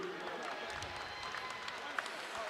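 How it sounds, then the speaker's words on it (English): A boxing arena crowd applauds both fighters in the ring after a knockout, a faint, distant, continuous patter of clapping with a dull crowd murmur underneath. "please put a big round of applause together for both of the fighters in the center of the ring"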